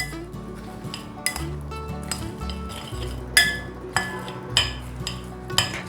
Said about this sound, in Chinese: 把所有调味料搅拌均匀